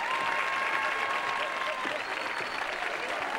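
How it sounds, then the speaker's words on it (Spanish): Steady applause from a television studio audience fills the space at moderate loudness, a dense continuous patter with a faint tone running beneath. "Ese aplauso es para Yolandita Monge."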